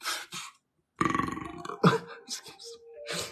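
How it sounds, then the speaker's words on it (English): A person lets out several loud, close burps, one long rumbling belch followed by shorter guttural bursts, with brief breathy sounds between them. "Speaking of burps, right?"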